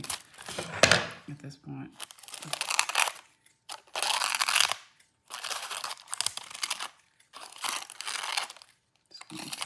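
Scissors cut through paper ephemera and trim its edges for book art, crinkling and crunching in several short bursts separated by pauses, with brief talk early on.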